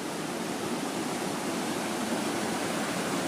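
Water pours continuously over the teeth-like spillway gate of the North IRC canal, a steady, dense, loud rushing roar with no breaks and no voices.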